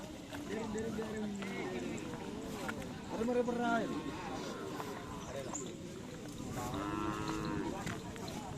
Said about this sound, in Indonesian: kayaknya itu ada sapi yang mau dilepas